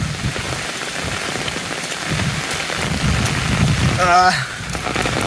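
Steady rain patters on a surface throughout, with a brief voice rising over it near the end.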